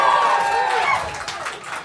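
An audience cheers and shouts at a conference talk, a dense swell of voices and whoops that holds loud before tapering slightly.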